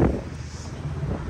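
Wind gusting in London, buffeting the microphone with a low, rough rumble over about a second, loudest at the start, with faint voices underneath.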